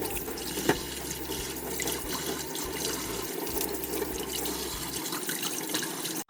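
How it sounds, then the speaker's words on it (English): Squid being washed under a running kitchen tap, a steady close splashing stream of water falling into a sink, continuous until it cuts off abruptly at the end. "I washed the squid by running water"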